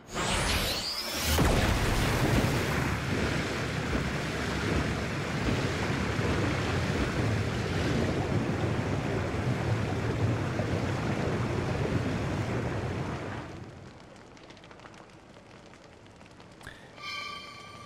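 Water waves in the video game Paper Mario The Origami King wash in a loud, dense surf-like roar for about thirteen seconds, then drop away to quieter game ambience with brief chimes at the end.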